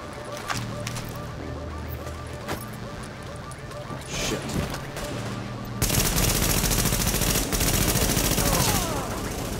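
Rapid hip-fired gunfire in The Division, dense overlapping bursts growing louder and busier in the second half, with game noise and voices running underneath.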